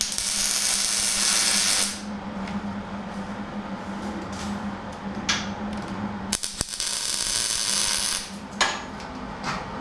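A tack weld goes onto the upper radiator core support of a tube chassis front end: a loud, close hissing crackle for about two seconds, then a low steady hum with scattered clicks and clanks.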